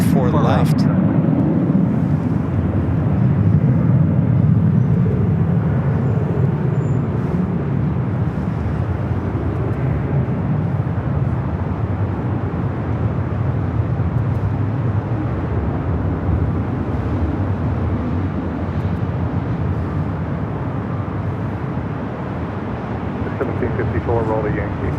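Jet airliners take off and taxi at LAX, a deep, steady engine rumble that swells and then gradually eases under frequent talk.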